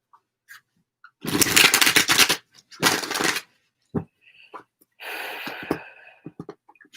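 Tarot cards are shuffled in two quick riffling bursts, then a longer softer shuffle, close up with small taps and handling noises in between.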